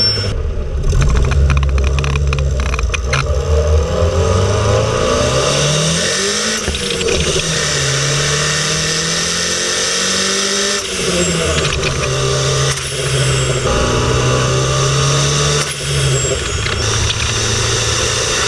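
A Honda Civic EG hatchback's turbocharged engine revs through a couple of hard pulls, loud and close, rising in pitch under acceleration, dropping between pulls, then climbing again over a steady rumble.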